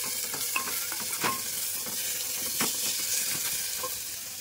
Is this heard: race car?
no